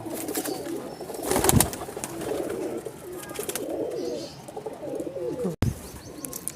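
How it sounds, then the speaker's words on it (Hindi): Silver Prince Kamagar pigeons cooing in a breeding setup, soft repeated low coos and occasional chirps close by, with faint background noise and possible brief wing sounds. "ये जी मेरे सिल्वर कमगर हैं, प्रिंस कमगर, सिल्वर प्रिंस कमगर कबूतर है माशाल्लाह।"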